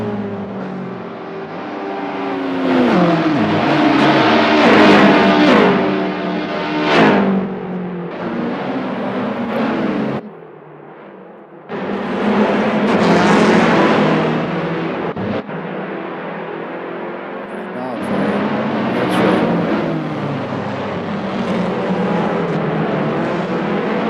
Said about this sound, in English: Snotty sounding little thing. That comes from that racing Honda 2000.